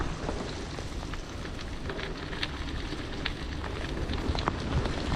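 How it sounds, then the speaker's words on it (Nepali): Steady rain pattering on the ground and foliage at Thetis Lake Park in Canada, a dense, continuous hiss with scattered droplet hits and no voices. "पानी परेर एकदम झपो भइदियो"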